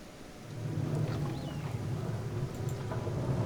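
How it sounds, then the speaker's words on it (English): Steady rain with low rumbling, the burning acid rain weather in the video game Kenshi, a continuous moderate hiss and rumble with no talk. "Yeah, I know it's burning acid rain,"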